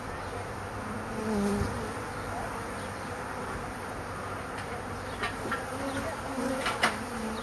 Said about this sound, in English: Get the bulk of these bees into these boxes.